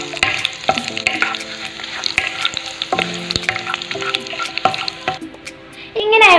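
Ingredients for pulinji being sautéed in a pan: loud, close sizzling broken by repeated sharp clacks and scrapes of a spatula against the metal, with a brief splash-like burst near the end.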